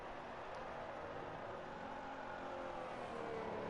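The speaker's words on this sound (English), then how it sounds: "drivers are furiously heating up their tyres" Race car engines drone and whir steadily at a distance as drivers heat up their tyres at Abu Dhabi, a continuous muffled roar.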